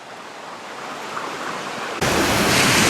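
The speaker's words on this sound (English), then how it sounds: "So the water is continuous from the creek level all the way up into here." High water in Sutter Creek rushes as a steady, dense broadband roar that swells abruptly louder partway through, with no talk.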